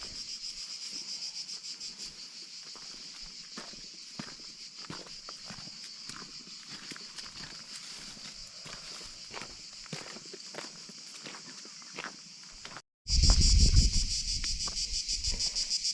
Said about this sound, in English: cicadas, not frogs